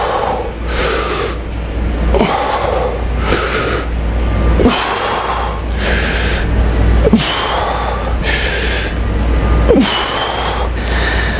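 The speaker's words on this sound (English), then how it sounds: "Already out of breath." Heavy, labored breathing from a man over 50 after a lower-body drop set workout: repeated deep gasping inhales and forceful exhales in a steady rhythm, loud and close to the microphone, with no talking.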